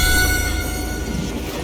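A train in the Western shooter Call of Juarez: Gunslinger rumbles along with a steady metallic drone and high ringing tones, loud and continuous over a short stretch with no voices.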